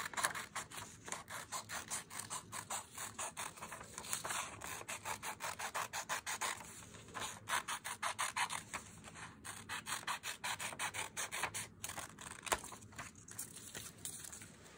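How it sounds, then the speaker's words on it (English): Scissors cut along a drawn line through paper for a woven Valentine heart, giving close, steady rhythmic snipping and rasping strokes that run continuously with no talking. "grab my scissors and I'm going to cut carefully on the line"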